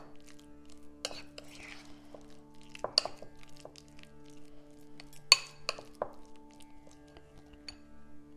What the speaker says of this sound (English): Mix all the ingredients well until you get the creamy texture.